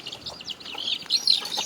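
A country chicken clucks and chirps in a quick, uneven run of short calls, close by and fairly loud, with more calls in the background.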